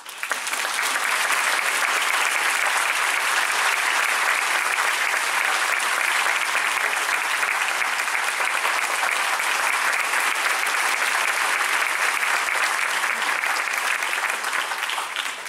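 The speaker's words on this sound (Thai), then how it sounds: "ขอเสียงปรบมือต้อนรับ" A concert audience gives sustained, dense applause, loud and steady throughout, as a violinist and violin teacher is welcomed before a performance of a romance for violin and orchestra.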